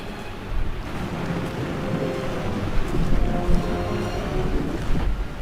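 Chocolate waterfall from the Willy Wonka factory scene starring Johnny Depp, a steady broad rushing roar of falling liquid that holds at an even level throughout with no voices.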